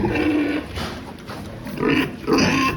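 Several sows grunt and squeal nearby in short bursts during vaccination, with higher squeals toward the end and a brief pause between calls.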